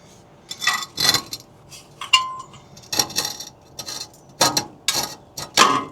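A wrench lengthened with a pipe works on a bolt of a Vortec long block engine, producing a series of sharp, close metallic clanks and ratcheting clicks spaced irregularly with quiet gaps between.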